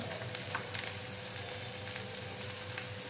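Boiled colocasia pieces being mixed with chili powder in a hot pan, a soft steady sizzle with light stirring scrapes throughout.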